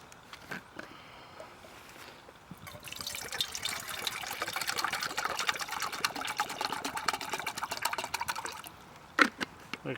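Water pours steadily from a tap into a cooking pot for a Swiss military M71 stove, a continuous filling rush that builds after a few seconds and runs for several seconds before a few clinks at the end.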